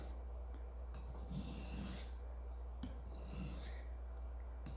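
Rhythmic rasping strokes of a knife drawn across a handheld sharpening stone, several back-and-forth passes in steady succession, close but fairly quiet over a low constant hum.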